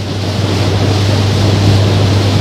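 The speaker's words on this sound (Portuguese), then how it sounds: "Bastante forte a água" Strong floodwater of the swollen Uruguay River surges past a ferry landing, a loud churning rush under a steady low engine-like hum.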